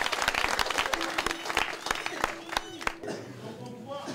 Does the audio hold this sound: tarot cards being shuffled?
no